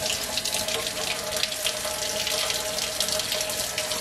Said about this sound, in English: I'm just going to rinse and then put them back on the counter